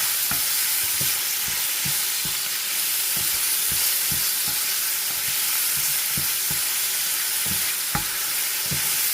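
Chopped tomatoes frying in hot oil in a pan, a constant bright sizzle underneath repeated soft scraping and stirring strokes at an irregular rhythm, close and fairly loud with no talking.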